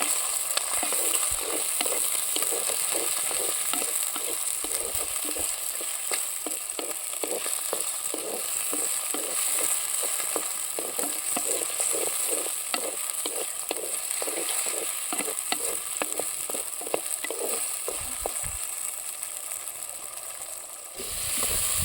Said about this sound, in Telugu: కొద్దిగా పసుపు కొద్దిగా ఉప్పు పసుపు ఉప్పు రేలు పట్టేలాగా కలుపుకుందాం